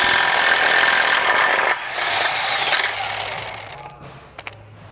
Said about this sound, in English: Next, we remove the axle nut.